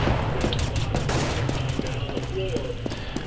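Bursts of gunfire ring out in a CS:GO match, a few sharp shots scattered through the clip under steady game noise and background chatter, with the player talking over it.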